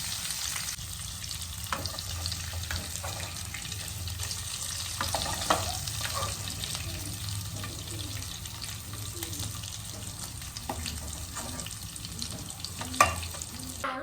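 Prawns frying in coconut oil, a steady low sizzle with occasional stirring clinks and scrapes, close and continuous, no talk.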